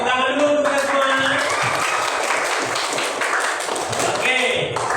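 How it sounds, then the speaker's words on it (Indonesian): A classroom of students claps together, steady and fairly close, with voices mixed in throughout the brief burst of applause. "Tepuk tangan dulu untuk kita semua."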